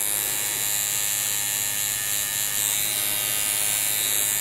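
A tattoo machine fitted with a wide magnum shader needle grouping buzzes in a steady, continuous electric drone with a low hum underneath, close and loud, no voices.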